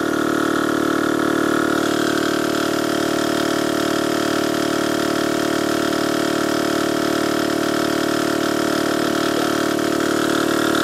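An air compressor runs continuously with a loud, steady mechanical drone and a constant hum throughout, with no talking.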